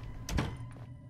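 A door in a video game opens as the player runs through, a single thudding slide with a short mechanical clunk following.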